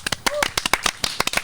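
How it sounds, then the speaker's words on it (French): A short burst of clapping, a handful of hands striking in quick uneven succession, close and fairly loud. "j'aimerais qu'on applaudisse très fort Marion, ma collègue d'émission"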